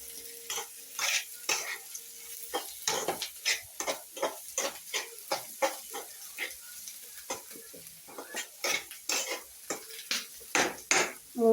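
Onions being sautéed in a pan for a Kerala-style soya chunks fry: a spoon scrapes and stirs in quick, irregular strokes over a soft, steady sizzle, close up with no talking.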